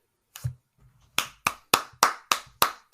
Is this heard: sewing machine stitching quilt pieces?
no